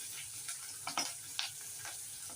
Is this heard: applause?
no